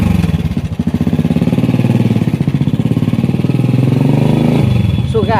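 A modified cafe racer motorcycle starts up and settles into a loud, throbbing exhaust rumble close by, with a voice talking over the engine.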